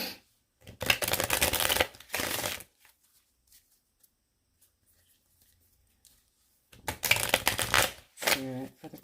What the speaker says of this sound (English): Actually, let me shuffle a little bit,